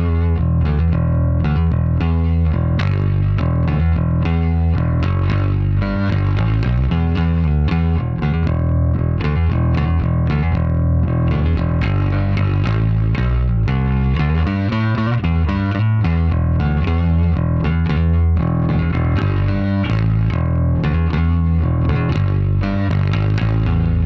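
Modern Vintage MVJ4-66 J-style bass guitar on the neck pickup, picked hard with a stiff plectrum, playing a continuous driven line of punchy, distorted notes with no talking.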